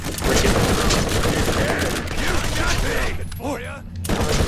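Dense, continuous gunfire in the video game Borderlands crackles loudly throughout, rapid bursts overlapping with booming impacts, while a voice talks faintly underneath.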